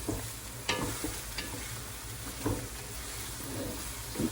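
A spoon stirs green pea soup in a pot, giving a steady hiss with soft scraping and a few light knocks against the pot.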